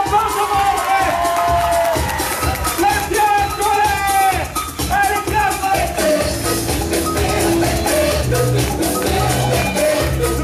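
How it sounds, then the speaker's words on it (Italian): Loud cheering and whooping from a party crowd at a fortieth-birthday celebration, mixed with dense clapping and babbling voices, continuous and close throughout. "passa, l'applauso forte!"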